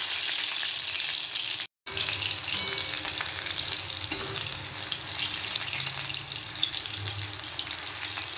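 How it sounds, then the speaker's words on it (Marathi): Sabudana khichdi, made with tapioca pearls, fries in a pan over a low flame, giving a steady, even sizzle and crackle that runs close and continuous, broken once by a brief gap. "दुसऱ्या साईडला आपण 2-3 मिनिटं असं फ्राय करून घेऊया."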